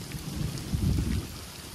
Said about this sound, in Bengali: বেশি বেড়ে গেল, বৃষ্টিটা বেড়ে গেল।